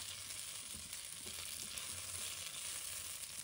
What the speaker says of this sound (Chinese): 随后加入香肠，稍微翻炒一下，目的是让香肠释放出多余的油脂